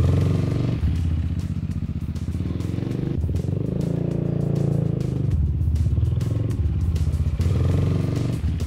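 A motorcycle engine runs close by at a rural temple, a loud continuous rumble with some revving and clattering, while a border collie is trained to look away from it.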